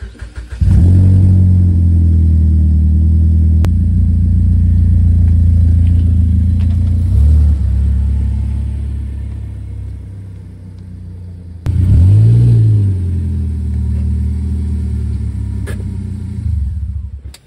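Ford Focus engine idles and revs with a deep, steady rumble close by, dipping briefly then surging again as the car is backed up, with no talking.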